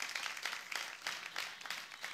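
A show audience gives a faint, distant round of applause for a comedian from Goma, with uneven rhythmic surges of clapping.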